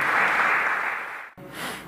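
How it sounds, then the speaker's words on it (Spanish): A crowd at a political gathering applauds Comandante Chávez in a loud, continuous burst of clapping that cuts off sharply, then resumes more softly. "Un aplauso para nuestro comandante Chávez, líder supremo"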